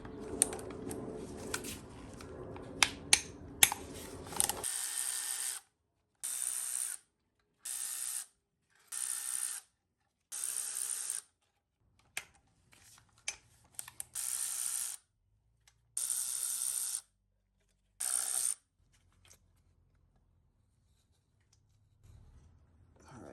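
Valve cover nuts and bolts on a Toyota 3VZ-E V6 being loosened with a ratchet: close, rapid clicking in repeated short bursts separated by pauses, loud and clear with no talking.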